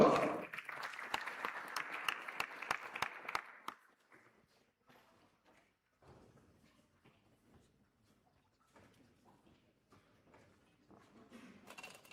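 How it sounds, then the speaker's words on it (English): An audience claps loudly at a medical school white coat ceremony at the UR College of Medicine, Huye campus. The dense applause lasts about four seconds, then cuts off into a quiet hall with faint shuffles. "A very big round of applause."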